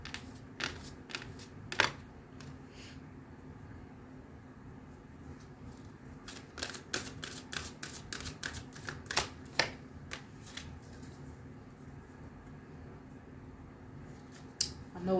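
A deck of clunky angel cards is shuffled at close range, giving scattered clicks and rapid flurries of crisp riffling snaps, quiet between bursts with a faint low hum underneath.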